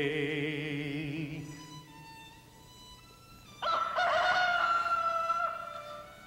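A rooster crows in a long, loud call that starts strong and then trails off, followed after a short gap by a second bright, sustained crow. It is fairly close and there is no talking.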